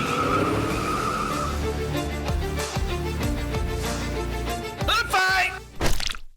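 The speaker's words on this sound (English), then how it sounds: "Ladies and gentlemen, start your engines." Toyota Scion cars at a CarJitsu competition event: engines roar and tires squeal and skid loudly, with sharp thuds near the end as a voice speaks over the noise.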